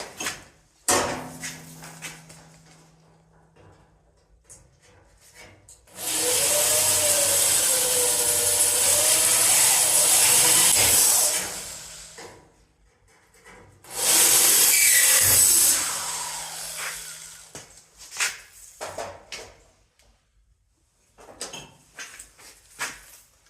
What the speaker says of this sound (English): gonna drill 2 more here